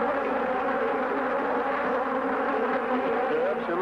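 A dense swarm of killer bees buzzes continuously and loudly right around a beekeeper's veil, a thick, close, unbroken drone with no voice heard.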